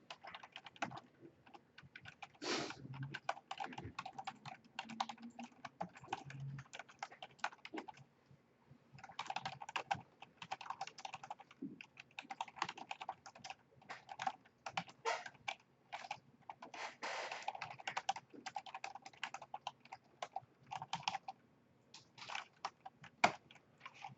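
Code is typed on a computer keyboard in quick, uneven bursts of close, crisp key clicks broken by short pauses.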